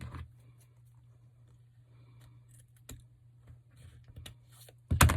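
Scissors cut through excess ribbon on a Dollar Tree snowman Christmas wreath. A few quiet, close snips and clicks are spread over a hushed room, and a louder handling noise comes at the end.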